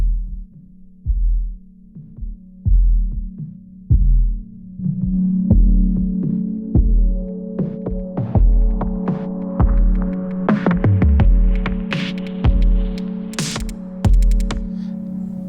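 Elektron Model:Samples groovebox playing a pulsing bass pattern through a resonant filter with a peak, the tone growing brighter and buzzier as the filter sweeps up; loud and steady with no talking.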